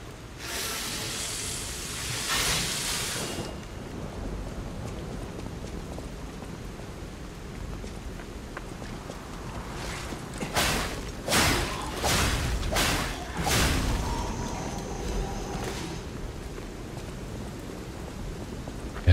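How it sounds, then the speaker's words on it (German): Wind, rain and thunder in the video game Lies of P, a constant hiss of rain and wind with several loud bursts of thunder cracking and rumbling in quick succession, no talk. "Ständige Wind auf den Ohren und der Regen"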